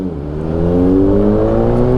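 A Honda Click motorcycle exhaust revs up, a loud, close engine drone climbing steadily in pitch and then holding high with a smooth, buzzing tone.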